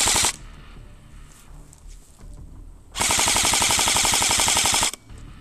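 Airsoft guns firing in a woodland airsoft match: a short burst at the start, then a loud, sustained rapid-fire volley of about two seconds with dense rhythmic shots, followed by quieter outdoor background with faint distant pops.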